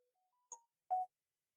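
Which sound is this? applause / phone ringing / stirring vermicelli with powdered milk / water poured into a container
phone ringing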